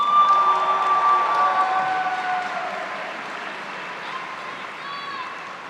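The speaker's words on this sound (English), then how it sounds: "please give a huge round of applause to Jason from Namibia" Applause and cheering from a graduation crowd at UWC Dilijan, a dense wash of clapping that is loud at first and gradually fades, with faint voices mixed in.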